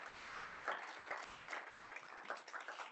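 An audience claps steadily at a student success summit, a dense, continuous patter of many hands heard faint and distant across the room.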